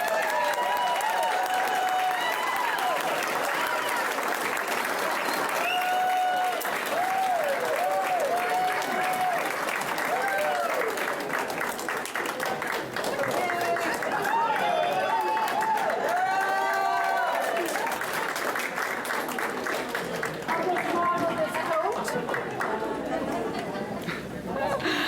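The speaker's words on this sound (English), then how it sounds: "Please welcome, with an Olympic applause," An audience at a sports hall of fame induction ceremony applauds a guest speaker, sustained dense clapping with some cheering and chatter that carries on steadily throughout.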